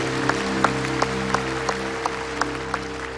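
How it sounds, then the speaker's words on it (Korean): A church congregation claps at the close of a prayer, sharp claps landing in a steady beat about three times a second over sustained organ-like music tones. "주님께 영광의 박수를"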